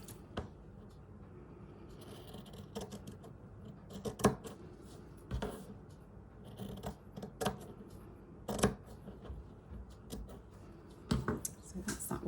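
Scissors snip through fabric for a stitched patchwork and appliqué piece, giving a faint run of irregular close-up cuts and clicks against a quiet background with soft handling noise.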